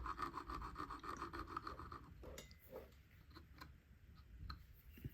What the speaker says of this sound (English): running a file over the surface